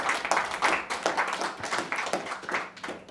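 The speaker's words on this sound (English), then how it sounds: "I think we should give both our speakers a round of" An audience applauds two speakers at the end of a climate solutions debate, with moderate, steady clapping from a modest crowd lasting a few seconds and no talk over it.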